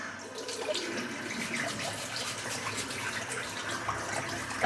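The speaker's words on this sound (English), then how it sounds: "I'm going to dip the brush in the hot water while it's filling up." Hot water runs from a tap into a bathroom sink as it fills, a steady close splashing hiss lasting throughout with no speech.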